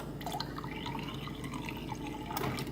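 Water trickles and drips into a bowl of raw eggs being prepared for cooking, a faint, steady pouring sound with a brief stronger splash toward the end.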